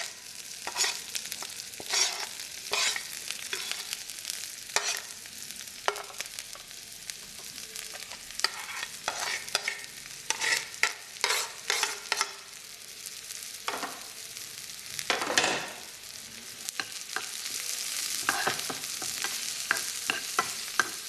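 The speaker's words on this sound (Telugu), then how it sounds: "అండ్ దీంట్లో నేను ఆనియన్స్, మిర్చి అన్నీ ఫ్రై చేసేస్తున్నాను." Onions and green chillies frying in oil give a soft sizzle, broken by repeated scraping and tapping strokes of a spatula against the pan, close by but fairly quiet, with no one speaking.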